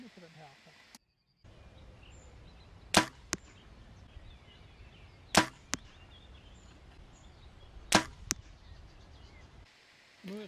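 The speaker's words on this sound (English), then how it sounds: "I now shot 3 arrows on target at 25 meters" Three arrows released from a compound bow fitted with a Garmin Xero sight, fired one after another at a target 25 meters away, each landing as a sharp loud thwack over a quiet outdoor background.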